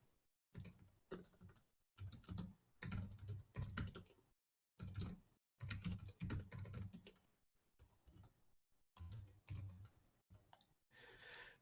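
Typing on a computer keyboard comes in quick bursts of close clicking keystrokes, separated by short pauses, fairly quiet and alone.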